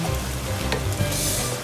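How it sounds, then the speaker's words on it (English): Chicken pieces with chicken masala sizzle in a pan, a close, loud crackling fry with small pops and a brief stirring scrape. "It's like sizzling."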